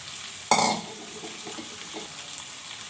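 Chopped onion and curry leaves drop into hot oil in a pan for vegetable chitranna. A sudden close sizzle bursts out and settles into a steady frying hiss with light stirring scrapes.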